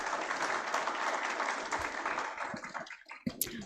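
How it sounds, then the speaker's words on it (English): Applause from an audience, a steady wash of many hands clapping that thins out and fades toward the end. "May I request a big round of applause for the mentors?"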